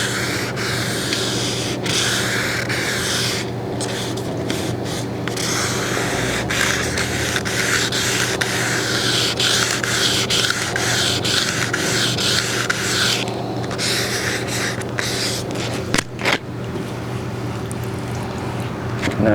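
Steady hand sanding of car paint being brought back to a smooth shine, a continuous close rubbing and scraping hiss with brief pauses and strokes throughout, no talking.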